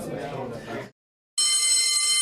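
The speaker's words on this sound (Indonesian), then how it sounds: "Bel sekolah berbunyi" A school bell rings with a steady, bright electric tone that sustains after a short pause, following a stretch of speech.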